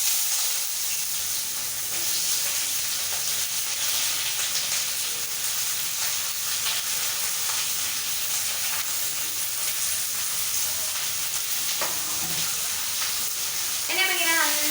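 White onion dropped into hot oil in a pan for mutton sukka, a steady broad sizzle and hiss throughout with occasional light clinks of a spoon, a brief clatter near the end.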